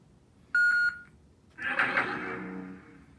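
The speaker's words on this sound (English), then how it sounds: "There's the beeps." A short burst of electronic beeps from a Sabertrio Neo saberstaff lightsaber, then a rising electronic hum that swells and slowly fades; no voices.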